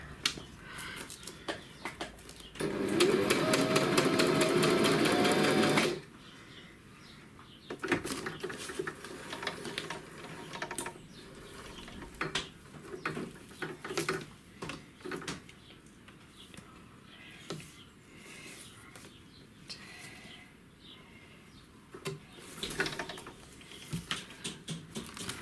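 Sewing machine stitching a test run on paper, heard as a loud, fast mechanical burst lasting about three seconds, followed by quieter handling clicks and taps.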